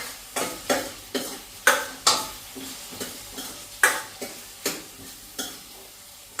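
Onions fry in a pan while a spoon scrapes through them in about a dozen regular strokes, each a sharp scraping burst over a soft, continuous sizzle.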